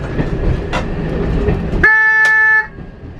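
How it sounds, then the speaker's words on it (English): Inside a diesel multiple unit cab on the West Somerset Railway, train running noise rumbles before the AWS warning horn sounds loudly as a sustained, steady tone for under a second, then cuts off, leaving quieter cab noise. "we go over this, you'll hear the horn"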